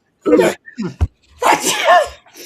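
A sharp sneeze bursts out, followed by another loud sneeze with a breathy tail; a short voice sound falls between them, close and loud.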